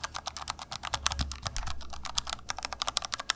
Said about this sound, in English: I have here another one which has red linear keycaps or switches.